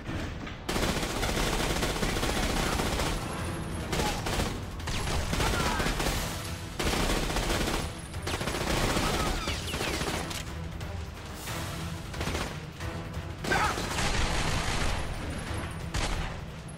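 Sustained gunfire in The Darkness video game, loud rapid bursts of automatic fire and shots in dense volleys with brief gaps between them, close and continuous.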